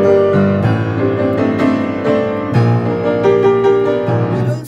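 Piano passage with a dramatic progression and the melody on top, played with a weak, poorly controlled touch: continuous sustained chords and notes, close and loud, muddy and uneven, with no talking.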